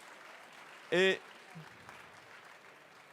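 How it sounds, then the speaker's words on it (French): Faint, distant audience applause at an awards ceremony for the first-prize winner, a soft continuous patter briefly interrupted by a single spoken word. "Applaudissements pour la société MCZ."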